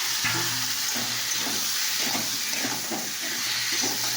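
Pointed gourd and potato cooking in a spice masala, a close, continuous hiss and sizzle with soft, irregular stirring scrapes and no talking.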